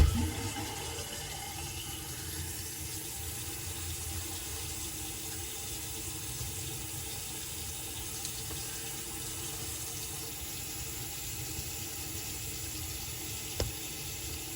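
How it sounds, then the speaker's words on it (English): Water running through a newly installed braided flex supply line after a leak repair, a steady, even hiss that continues unbroken and fairly quietly throughout, with no talking. "Turn on the water."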